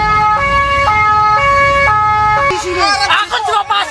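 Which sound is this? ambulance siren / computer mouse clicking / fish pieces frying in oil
ambulance siren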